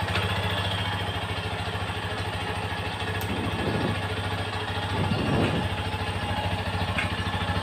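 A Yamaha Serow XT250 motorcycle engine idles steadily nearby, a low continuous throb with faint mechanical clatter and a couple of brief louder bursts, with no talking.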